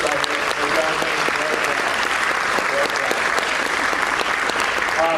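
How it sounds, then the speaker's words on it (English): Sustained, dense applause from a large crowd at a football signing-day event, steady and loud throughout with no pauses. "give a round of applause for the parents"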